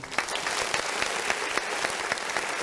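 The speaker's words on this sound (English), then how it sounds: "Y'all give that man a big round of applause, y'all." A studio audience gives a performer a big round of applause at the close of a show, brisk dense clapping at steady strength with a few sharper claps standing out, no talk over it.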